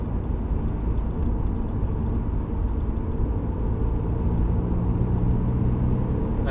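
A 2007 VW Golf GT TDI BKD diesel engine running at about 1800 rpm with a faint vibration, heard from inside the car as a steady low rumbling hum and road drone throughout.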